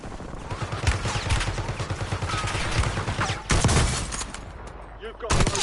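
Rapid bursts of gunfire rattle almost nonstop in the video game Warzone, with sharp shots cutting through a noisy battlefield bed and a brief lull near the end.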